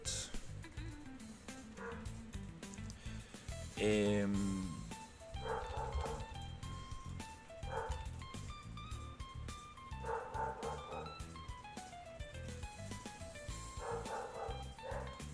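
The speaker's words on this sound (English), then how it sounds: "My dog has been barking a lot." A pet dog barks and yips repeatedly indoors, with one louder, sharper bark burst standing out amid steady background music.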